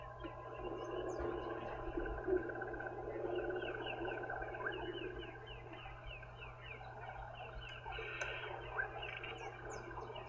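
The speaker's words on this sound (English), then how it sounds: "They make a very, very high-pitched chirping sound" Painted reed frogs calling on a windless African safari drive, repeated very high, thin whistle-like chirps scattered over a soft steady background, distant and faint, with no talking.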